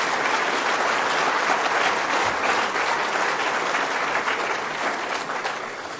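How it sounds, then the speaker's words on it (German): A large crowd at an AfD Pfalztreffen political rally gives sustained, dense applause that stays loud and even for about six seconds before starting to taper. "Einen großen Applaus auch für dich."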